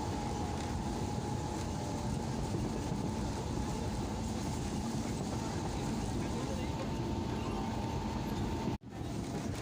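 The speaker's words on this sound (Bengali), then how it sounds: "ভালোই ট্রেনটা টানছে, দেখা যাক আমরা কখন পৌঁছাই শেষ অবধি।" Local train running from Panskura toward Digha, a steady loud rumble of carriage and track noise throughout, with a brief dropout near the end.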